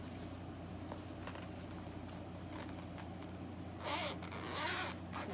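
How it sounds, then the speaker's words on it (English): A zipper on a small smartphone video kit case from Comica is drawn around its edge in two quick rasping pulls, close and fairly quiet. "It zips all the way around."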